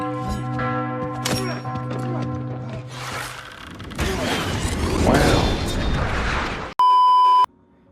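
A bell rings as a subscribe sound effect: clanging, resonant strikes with long ringing tails, then a rumbling mechanical clatter, ending in a loud, brief electronic beep.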